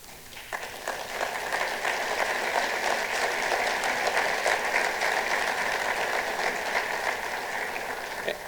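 Sustained audience applause at a statewide broadcast event following a governor's speech, a dense, steady wash of many hands clapping that holds at full strength throughout.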